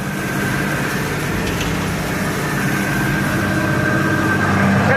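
A tractor engine drones steadily while pulling a Case IH 5100 drill through a field sowing wheat, a constant low rumble with a faint tonal whine throughout.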